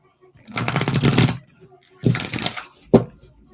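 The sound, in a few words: shuffling a deck of oracle cards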